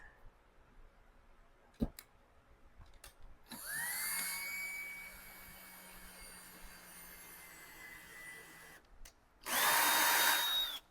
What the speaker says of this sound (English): So I need to pre-drill a hole